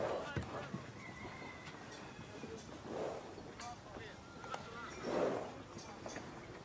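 A sick horse whinnies twice in a French TV drama scene, each neigh rising clearly over rustling background noise and faint knocks.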